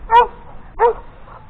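Two sharp dog barks, close and loud, spaced just under a second apart, with quiet background between them.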